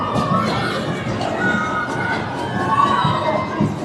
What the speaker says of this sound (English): Crowd's charged up on both sides.